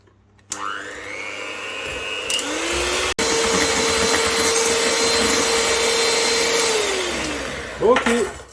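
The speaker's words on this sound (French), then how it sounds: "on va battre pendant environ 45 secondes au batteur" An electric hand mixer whirs steadily for several seconds as it beats eggs with sugar, vanilla sugar and a pinch of salt, starting abruptly, holding a loud even pitch, then winding down before a few clinks of the beaters.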